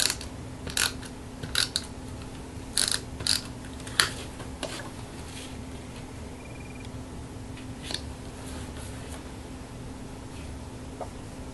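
A tape runner pressed onto a scrapbook page to mount photos gives a few faint, brief clicks and scratchy strokes, scattered over a quiet room hum.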